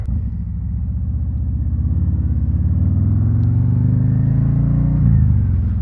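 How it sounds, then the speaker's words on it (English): A deep, throaty 2024 Harley-Davidson Street Glide exhaust with Chromeworks slip-ons rumbles steadily nearby, swelling slightly as the engine builds, with no voices. "You get that very deep, throaty rumble from these Chromeworks slip-ons, and it sounds really good."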